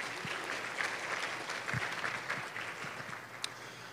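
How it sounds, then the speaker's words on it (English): An audience at an education summer institute welcome session applauds after a shared personal story, a moderate, even round of clapping with scattered sharper individual claps, lasting a few seconds. "Another round of applause for sharing her story."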